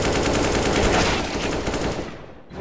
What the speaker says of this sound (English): I'm putting suppressing fire down banana.